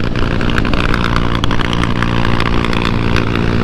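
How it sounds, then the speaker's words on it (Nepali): A motorcycle engine drones loudly and steadily while the bike is ridden at speed, around 100, on a long road trip from the India border to the China border, with a constant throbbing hum and no pauses. "पुरा 100 हाने त्यस बाइकले"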